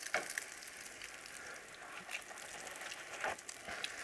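Food fries in oil in a pan on a home stove, a soft steady sizzle with small crackles and pops, quiet and close with no talk over it.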